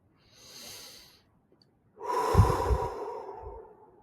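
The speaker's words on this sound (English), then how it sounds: "Nice deep breath." Baseball pitcher in a bullpen session taking a deep breath, a soft inhale followed after a short pause by a longer, louder, rushing exhale, close and alone.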